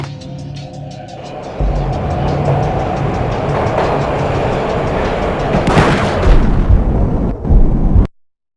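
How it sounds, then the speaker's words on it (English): A train ride in the Max Payne video game, with a steady loud rumble of rolling rail cars, a sharp burst near the end, and a sudden cutoff to silence. "This was my second train ride of the night."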